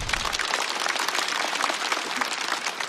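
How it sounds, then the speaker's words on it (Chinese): A stand-up comedy audience breaks into dense, steady applause, many hands clapping at once throughout. "再次掌声送给"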